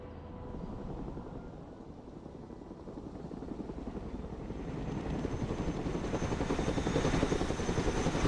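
A Chinook helicopter in the Broken Arrow game gives a continuous rotor thump and engine whine that swells gradually louder, as if drawing closer, heard alone without talk.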